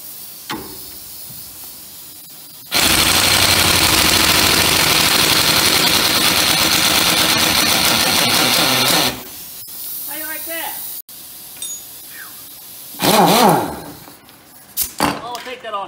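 A large air impact wrench removes brake backing plate bolts on a 1959 Chrysler Saratoga during a disc brake conversion. One loud, sustained hammering burst runs about six seconds, followed by shorter bursts and a voice.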